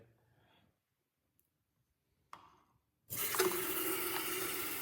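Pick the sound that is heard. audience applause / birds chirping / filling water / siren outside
filling water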